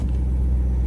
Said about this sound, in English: But let me do a little rev.